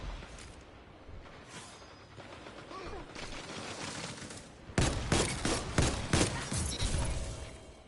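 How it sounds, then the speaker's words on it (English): Rapid bursts of hand cannon gunfire in Destiny 2 crack out in the game, sparse and softer at first, then a loud cluster of sharp repeated shots in the second half. "congrats, you're using a hand cannon"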